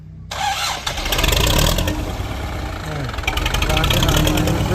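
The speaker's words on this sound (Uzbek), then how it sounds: "Texnikamizni yurgizib, ovozini bir eshitib ko'ramiz." A Belarus MTZ 80 tractor engine cranks and fires up, then settles into a loud, steady, rumbling run close by.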